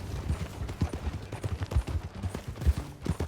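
Horse hooves clip-clop in Red Dead Redemption 2, a steady walking rhythm of soft, muffled thuds at moderate distance, fairly quiet and uneven in strength.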